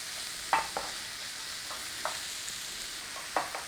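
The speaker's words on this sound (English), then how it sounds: "Give it a stir around" A spoon stirs baked beans with onion, garlic and ginger in a pan under a soft, steady sizzle, with a few distinct scraping clinks spread across the clip.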